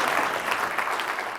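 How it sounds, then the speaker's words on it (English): An audience at a voice and UX design conference session applauds, a dense, steady burst of clapping lasting throughout, ending with a sharp louder knock. "Round of applause"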